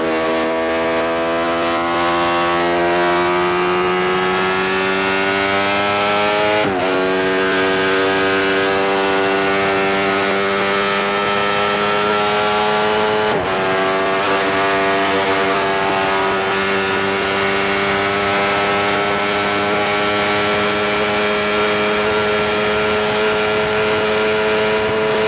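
Benelli 350cc racing motorcycle engine heard on-board at the 1993 Manx GP, screaming loud and close as it climbs through the revs, with two sharp gear changes and a long rising uphill pull, with no talk.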